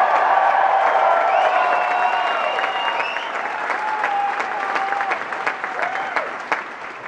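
An audience at a Ron Paul rally in St. Cloud, Minnesota claps steadily and warmly, a dense sustained applause with scattered cheers, fading slightly toward the end.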